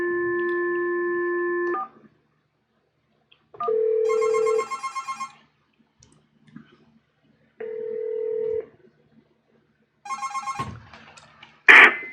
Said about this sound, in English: I'm going to test to see if this works. So I'm going to turn the ring around.